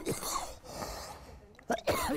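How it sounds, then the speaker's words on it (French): A man coughs several times, a short cough at the start and then a cluster of harsh, close coughs near the end. "il ne s'est toujours pas débarrassé de sa toux"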